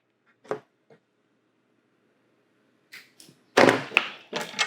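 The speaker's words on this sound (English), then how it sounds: "I'm just going to clip that tubing" Plastic air and product tubing is cut during a triple foam panel install, a few sharp snips and clicks near the mic, one louder crunchy cut and some handling rattles, with no talk.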